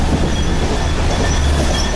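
Indian passenger train running on rails, heard from on board as a loud continuous rumble and rattle of wheels with squealing metal and clattering, filling the whole moment without speech.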